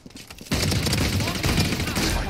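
After a quiet half second, a sudden, sustained burst of Valorant gunfire erupts, loud and continuous with fast repeated shots, voices faintly present beneath.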